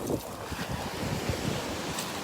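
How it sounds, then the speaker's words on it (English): Ocean waves break and wash up on a beach while sea glass is being hunted, with a steady roar of surf and a few gentle surges, under wind buffeting the microphone. "The waves are quick."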